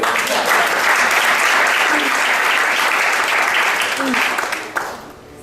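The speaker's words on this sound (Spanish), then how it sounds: "Dale un aplauso al rey otra vez." A church congregation bursts into loud, sustained applause during a sermon, a dense crowd clapping that carries on throughout before thinning near the end, with voices faintly mixed in.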